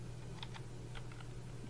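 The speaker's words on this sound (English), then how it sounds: "what you want to do is type" A few quiet, quick keystrokes on a computer keyboard while typing into a Firefox search bar, faint light clicks over a low steady hum.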